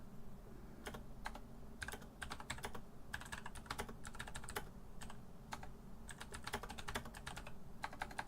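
Rapid typing on a computer keyboard, a steady run of crisp key clicks in bursts with brief pauses, close and clear over a constant low background hum.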